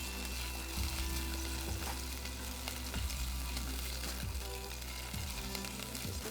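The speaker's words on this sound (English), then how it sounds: "in a pot over medium-low heat, add the sesame oil. And this time we're going to add" Potatoes frying in sesame oil in a pot over medium-low heat for Korean potato seaweed soup, a dense continuous sizzle with occasional stirring knocks, close and steady, no voices.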